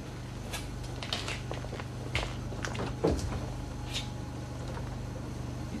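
Someone rattles and tries a stuck door, with several close clunks and a louder thud against the latch over a steady low hum, in an older indoor setting.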